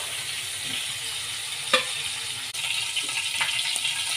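Curry leaves and garlic sizzling in hot oil for a prawn masala curry, a steady close crackle with a sharp pop, then a slightly louder fizz after the ingredients go in, without talk.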